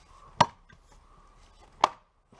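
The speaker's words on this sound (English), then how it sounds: "I don't use a chopping block, but like this little axe" Two sharp, solid chops of a small hand axe, spaced about a second and a half apart, each a crisp close impact ringing briefly in otherwise quiet surroundings.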